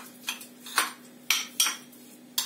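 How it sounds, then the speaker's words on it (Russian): Spoon clinking against a bowl while dog food for a Yorkshire terrier is mixed with liver: a handful of sharp, irregular metallic taps over a quiet steady hum. "Сейчас надо все перемешать"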